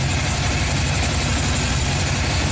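A 1939 custom Ford's engine idles in a steady, unbroken low rumble, heard up close and fairly loud with no talking over it.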